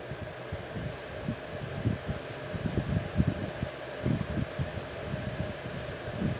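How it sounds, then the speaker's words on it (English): Duracraft electric fan running at medium speed, a steady close airflow roar with low fluttering wind buffeting against the microphone, continuous and moderately loud with no talk. "This fan is really powerful. Hopefully you can still hear me over the wind noise."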